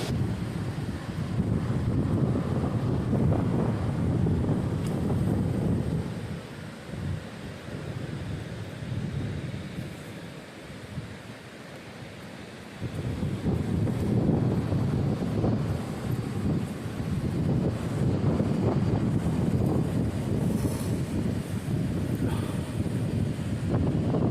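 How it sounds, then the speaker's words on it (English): Steady wind buffets the microphone, a broad low roar that eases briefly in the middle before gusting back up, with no voices. "it's windy"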